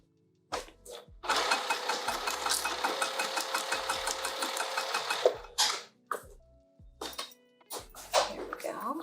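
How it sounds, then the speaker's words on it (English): A sewing machine stitches fabric in a long steady run of rapid rhythmic needle strokes, close and loud, with short bursts of stitching before and after as the fabric is paused and turned. "And I'm going to start sewing."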